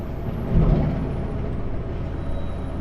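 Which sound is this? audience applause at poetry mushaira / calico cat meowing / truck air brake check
truck air brake check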